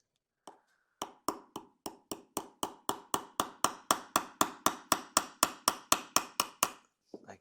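A hammer taps a roll pin into the slide of a Walther PK380 pistol, holding the sight in place. About twenty sharp, evenly spaced taps ring out close up in a quick steady rhythm, with a faint knock at the end.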